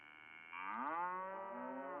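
A spotted cow gives a single long moo that begins low, rises and holds a steady, resonant tone for over a second, loud and near with nothing else over it.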